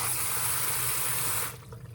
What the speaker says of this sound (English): Fill up your pan with water.